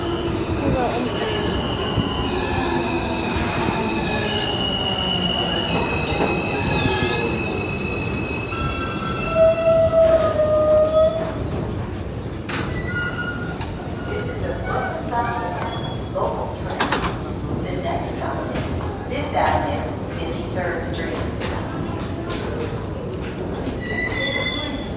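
An R160 Siemens New York subway train pulls into Lexington Avenue 53rd Street station: loud, sustained rumble with wheels squealing at changing pitches and mechanical clanks, while voices murmur faintly on the platform.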